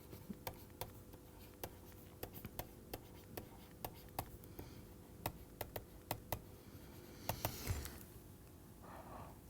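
Chalk or marker writing on a board during a probability lecture, with quiet, scattered taps and short strokes in an irregular rhythm, faint and close, followed by a brief rustle.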